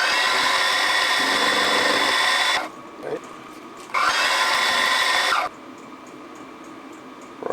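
A machine tool takes a pass along the back of a model steam pump body, running loud and steady in two long bursts separated by a short quiet gap.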